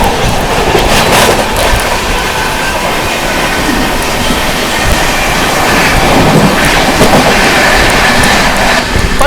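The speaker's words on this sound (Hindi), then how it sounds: "सामने से आती हुई न्यू दिल्ली से चलकर पटना की ओर जाने वाली न्यू दिल्ली पटना राजधानी एक्सप्रेस आती हुई दोस्तों।" The New Delhi–Patna Rajdhani Express rushes past close by in heavy rain, a loud continuous roar of wheels with rhythmic clickety-clack and brief squeals, no voices.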